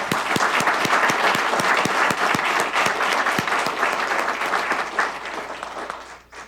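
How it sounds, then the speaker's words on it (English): A school board meeting audience applauds a student chess team, a loud, dense burst of many hands clapping steadily for about six seconds before fading out at the end. "Give them a round of applause."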